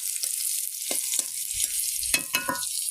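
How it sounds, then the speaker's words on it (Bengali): Cumin seeds crackle in hot oil in a pan with bay leaf, a steady bright sizzle broken by several short pops and spits. "জিরাটা একটু ফুটতে হবে তেলের উপরে।"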